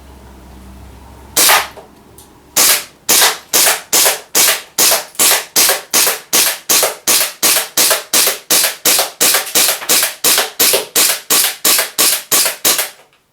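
Army Custom 4.3 Hi-Capa airsoft pistol firing .2 BBs in a steady string of about twenty-five loud, sharp cracks at an even, brisk rhythm, with no talking.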